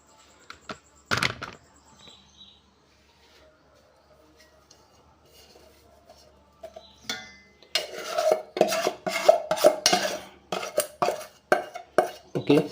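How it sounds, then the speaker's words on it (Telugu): Spoon stirring chili powder into a mango pickle mix, scraping and clacking against the bowl in a busy run of close, uneven strokes after a quieter stretch with a few faint knocks. "చూడండి, కారాన్ని కూడా కలుపుకుంటున్నాను."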